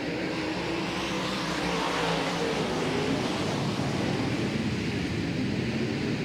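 Dirt track UMP modified race cars accelerate on a restart at Volusia Speedway Park, a dense, sustained engine roar from a distant pack that holds steady and loud with no gaps.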